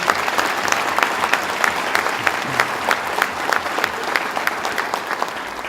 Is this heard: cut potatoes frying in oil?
no